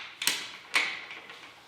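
Two short metallic clicks and scrapes from metal carabiners forced through snug holes on a Jeep Wrangler garage hardtop lifter, close and fairly quiet, each fading into a faint rasp.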